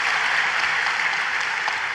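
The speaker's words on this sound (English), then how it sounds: "round of applause" Audience applause fills the space evenly, a steady dense wash of many hands clapping at a constant level with no speech over it.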